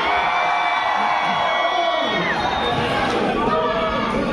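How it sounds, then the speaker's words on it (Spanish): A crowd of fans screams, whoops and cheers continuously at an anime convention, the dense shouting loud and sustained, with children's shrill voices rising through the din. "Vea cómo gritan, señora."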